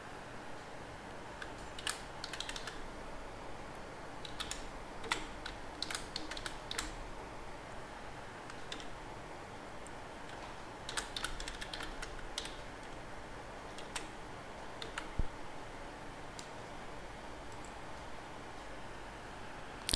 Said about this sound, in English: Now I am typing the details for the next book.